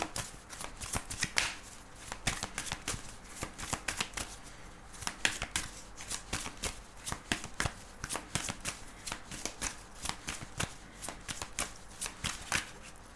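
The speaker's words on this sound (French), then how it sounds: "on va démarrer avec cet oracle, on va prendre 3 cartes" Oracle cards are shuffled and handled for a reading, making rapid, crisp riffling bursts and flicks that repeat close and fairly quiet over several seconds.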